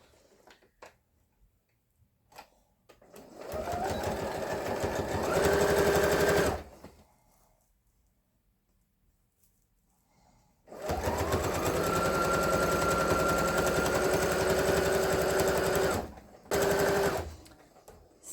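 Sewing machine stitching fabric for a quilted pumpkin hot mat, two long runs of rapid mechanical whirring and ticking separated by a quiet gap, then a brief final burst, loud and close.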